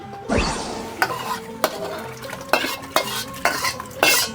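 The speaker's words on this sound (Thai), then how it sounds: "น้ำซุปใส่ยอดลงไปในนี้ชัวแล้วโยก" A spoon stirs soup with banana stem in a cooking pot for a northern Thai chicken curry, giving a run of sharp metallic scrapes and knocks against the pot over a faint sizzling background.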